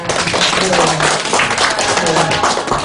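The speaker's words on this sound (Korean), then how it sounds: "다시 한번 박수 부탁드립니다." An audience at a training session applauds a lecturer after a long talk, a loud continuous patter of many hands with some voices mixed in beneath the clapping.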